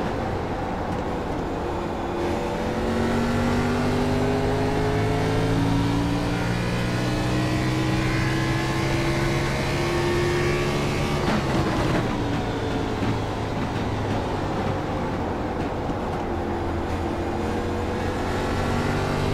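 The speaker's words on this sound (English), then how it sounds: "Car's sounding a little rough, to be honest with you." Race car engine in a NASCAR Xfinity-style racing video game at New Hampshire, running rough after front right-side damage, a loud continuous droning roar with shifting harmonic tones and no talk over it.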